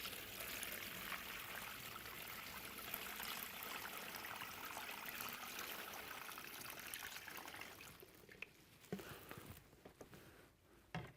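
Water poured evenly onto soil samples in a rainfall simulator for an infiltration test, a faint continuous trickling stream that thins into scattered drips and splashes near the end.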